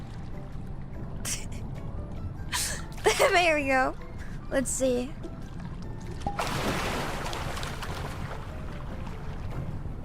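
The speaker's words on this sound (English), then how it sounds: "Can you hear the water now? It's very loud." Water splashing in a swimming pool during a party, a brief rushing burst of spray near the end following bursts of close talking and a gasp, over a constant low watery rumble.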